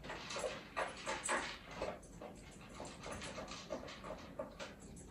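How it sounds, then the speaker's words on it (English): A pet dog snacking on a treat nearby, with soft irregular chewing, licking and smacking sounds plus faint whimpers and panting at a low, steady level. "Really only listening to my dog snacking in the background"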